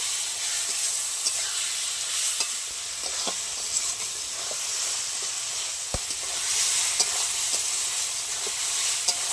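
Ginger, garlic and green chili paste sautéed with fried onions for egg biryani, giving a steady close sizzle and hiss with scattered light scrapes and clicks of stirring, no voices.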